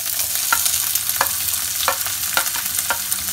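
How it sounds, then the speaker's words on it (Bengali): Chopped onion fries in oil with ginger and garlic for dal fry, a constant close sizzle broken by regular spatula scrapes about every half second. "আদা রসুন হালকা ফ্রাই করে নেওয়ার পরে আমি তাতে দুটো বড় সাইজের পেঁয়াজ ছোট ছোট করে টুকরো করে"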